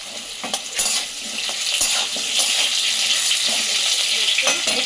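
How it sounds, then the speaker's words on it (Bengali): Papaya and potato frying in a pan for Bengali sukto, a steady hiss of sizzling oil with scattered clinks and scrapes as the vegetables are stirred, close and continuous. "পেঁপে আর আলু আমার একটু একটু ভাজা হয়ে গেছে"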